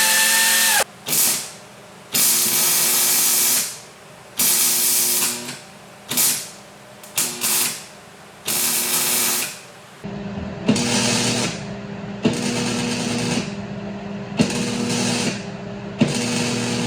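A welder tacks a part onto the frame and body of a 1979 Camaro, loud crackling bursts of a few seconds each starting and stopping in an uneven rhythm, close by.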